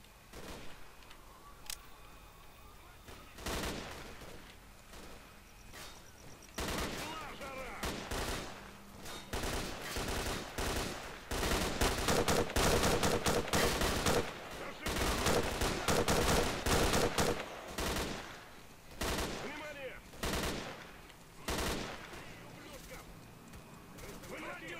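Gunfire in the shooter Stalker: Clear Sky crackles through repeated bursts and volleys of shots, some rapid and close, mixed with game sounds, with voices talking in between.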